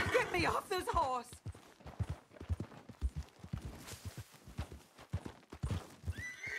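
Clip-clop of horse hooves in Red Dead Redemption 2, a rapid irregular trot with a sharp whinny at the start and another brief neigh at the end.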